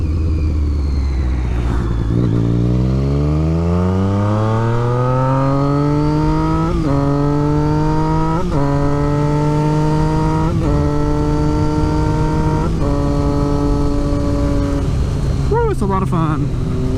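A Triumph Street Triple 675 motorcycle revs up and accelerates through several gear changes, its engine note rising steadily with brief dips at each shift, loud and close throughout, ending with a quick throttle blip.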